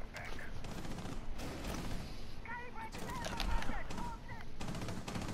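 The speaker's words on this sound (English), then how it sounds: "Why are we shooting already?" Dense, continuous gunfire in a multiplayer shooter video game: overlapping rapid shots and bursts with loud peaks, joined by faint tonal game effects and what sounds like voices mixed in.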